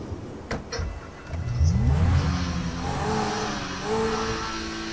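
A Lamborghini Aventador in GTA 5 starts up, then its engine revs and climbs in pitch before settling into a steady throaty drone, heard close and loud with no talk.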